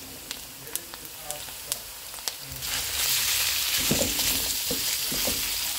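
Pork frying in a pan of oil infused with annatto seeds, a steady close sizzle that swells louder partway through, with a few sharp ticks and clinks of utensils.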